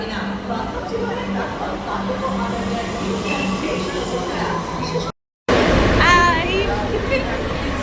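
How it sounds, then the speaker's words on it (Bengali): A metro train at Dum Dum metro station rumbles along the platform amid crowd chatter, a steady mid-level rolling drone with a brief cut, then squealing brakes and voices close by. "ওই যে আমাদের মেট্রো চলে এসছে"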